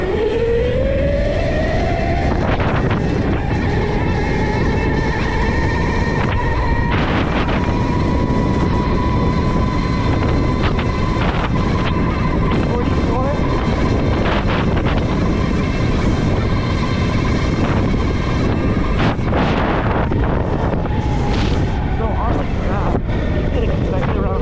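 An ETM RTR RC car's electric motor whines up through rising pitch at full throttle, a steady high tone climbing and holding, with constant wind buffeting across the microphone throughout.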